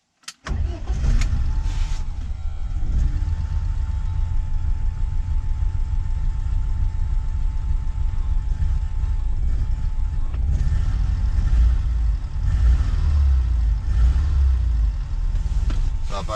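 A BMW E36 316i with the M40 engine and a newly changed fuel filter starts and then runs steadily at a loud, close, continuous drone, with a slightly uneven idle.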